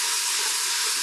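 Ground beef hits a hot pan and sizzles loudly, a dense, steady hissing sear heard up close and alone.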